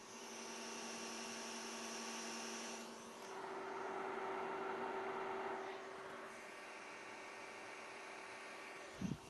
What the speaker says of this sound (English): We'll do some audio tests here, so we'll put the mic up next to the printer and you can listen to it.